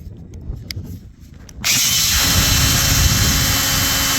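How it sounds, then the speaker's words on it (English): A power drill with a wood bit bores into a timber brace post on an off-grid livestock fence build, starting abruptly after quiet outdoor rustle and then holding a loud, steady grinding whine to the end. "I'll see if I can do this while I'm drilling."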